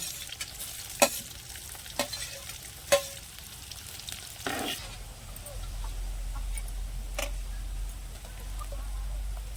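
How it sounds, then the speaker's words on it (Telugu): Spices and then onions fry in a pan for a dhaba-style egg masala curry, with a spoon knocking against the pan a few times before a steady, close sizzle settles in under a low background hum. "ఇవి వేగుతూ ఉండగానే ఉల్లిపాయలు కూడా వేసేసుకొని వేయించుకుందాం."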